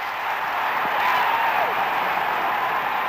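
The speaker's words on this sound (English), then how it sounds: "And the crowd going really wild." A large crowd roars as Galway win the GAA football final, a steady, distant wash of cheering and applause that holds evenly throughout without clear individual voices.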